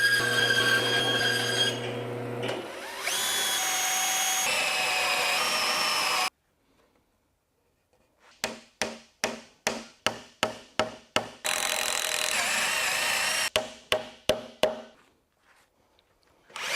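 A power drill whines through wood on a small cart's joints, then a mallet taps wooden dowels home in a series of sharp, evenly spaced knocks, with brief silent pauses between bursts.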